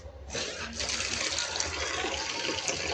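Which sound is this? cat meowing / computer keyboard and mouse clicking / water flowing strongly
water flowing strongly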